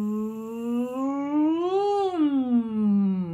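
A voice imitates a lawnmower's steady zooming noise, producing a sustained hummed tone that rises and falls smoothly over a few seconds, close and alone.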